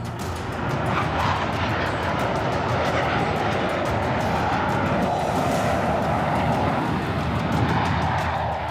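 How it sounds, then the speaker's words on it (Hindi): Indian Air Force fighter jets flying in formation over the desert during the Tarang Shakti exercise make a loud, steady, continuous jet roar that holds at even strength throughout. "वायुसेना के फाइटर जेट ने अलग अलग फॉर्मेशन बनाए और वॉरफेयर दिखाया।"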